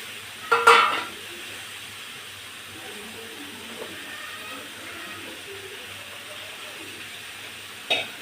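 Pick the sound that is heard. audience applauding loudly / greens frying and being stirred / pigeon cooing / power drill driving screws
greens frying and being stirred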